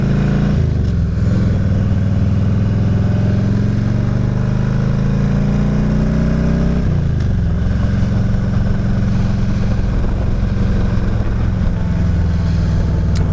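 A 2000 Harley Davidson Road King drones loudly and steadily while being ridden. There is a gear shift partway through, with the pitch dropping and then climbing again, and wind noise runs throughout.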